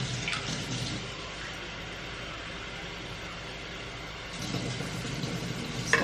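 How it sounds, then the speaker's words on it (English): Lukewarm water pours into a yeast mixture in a home kitchen, a soft continuous splashing trickle that dips midway and swells again near the end, with no talk over it. "I'm gonna actually go ahead and add the rest of the water to this"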